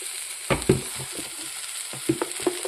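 Spoon stirring coriander, garam masala and turmeric powders in a pan for a Turkish berry masala curry, a few soft scrapes and taps over a quiet background hiss, with no talking.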